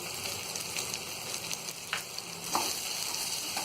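Tomatoes sizzle steadily in a pan while cooking for upma, a continuous close frying hiss broken by a couple of brief stirring scrapes.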